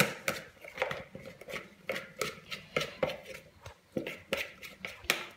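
Bread dough for faluches, a northern French flatbread, being kneaded and pressed with fists to push out air, giving a steady rhythm of soft slaps and thumps, close and fairly quiet.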